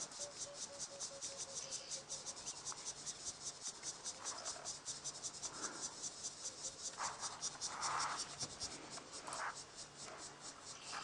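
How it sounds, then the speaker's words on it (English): Crickets chirp in a steady fast pulsing trill at sunset on an African safari drive, a continuous insect chorus with faint scattered bird calls in the background, no speech. "that is some kind of species of cricket"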